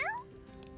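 A cat in the video game My Time At Sandrock gives a single short, rising-then-falling meow at the very start, followed by quiet game ambience.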